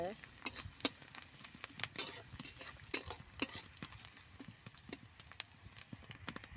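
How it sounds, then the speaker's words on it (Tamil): Onions sauté in a pan for a tamarind okra kuzhambu, a faint sizzle broken by scattered sharp clicks and scrapes as a spoon stirs against the pan. "வெங்காயம் ஓரளவுக்கு நல்லா வதங்கிடுச்சு"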